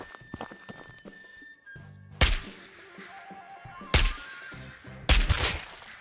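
Gunshots in the VR shooter Ghosts of Tabor: three loud, sharp shots spaced about two seconds apart, each ringing briefly, over quieter clicks, movement and thumps.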